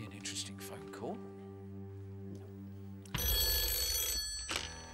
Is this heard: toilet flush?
no